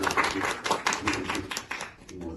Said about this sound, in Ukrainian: я хочу дуже е, попросити ваших аплодисментів на честь нашої технічної команди